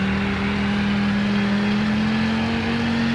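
A supercar with a six-speed transmission accelerating toward top speed in the video game Greenville, a steady engine drone with a slowly rising pitch, held loud and continuous throughout.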